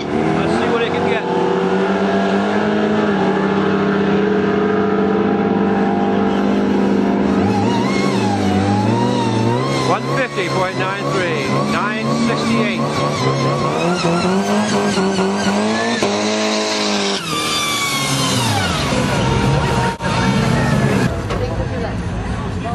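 A drag racing car launches and accelerates hard down the strip at Portland Raceway, its loud engine roar rising steadily in pitch through gear changes over a constant crowd and commentary background.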